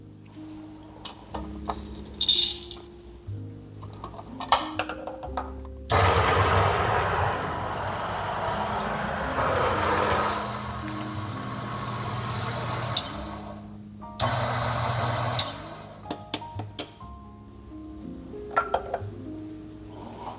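A coffee grinder set to grind size 17 grinds espresso beans in a winter kitchen, a loud steady whir running for about eight seconds between quieter clinks of cups and handling.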